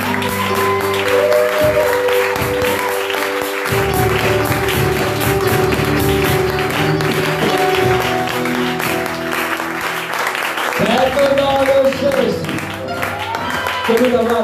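A church congregation at a fasting and prayer service claps and cheers in praise to God. Loud, sustained applause mixes with raised voices and sung or shouted tones, with a brief lull before the clapping swells again.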